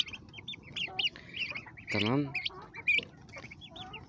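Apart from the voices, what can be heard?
chickens clucking, young rooster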